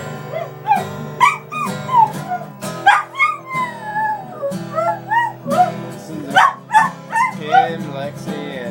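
A dog sings in a series of rising and falling howls and whimpering yips, close and fairly loud, with bursts repeating in an uneven rhythm.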